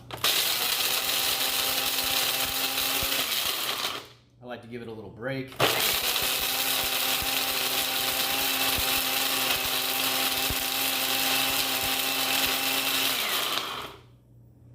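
A blender grinds mesquite pods loudly and steadily, pauses briefly while a voice speaks, then roars back for a long continuous run before cutting off.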